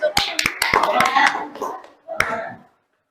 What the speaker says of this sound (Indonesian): Oke, tepuk tangan, yo.